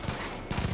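Rapid bursts of automatic gunfire from the video game Far Cry 5, close and loud, two short volleys in under a second.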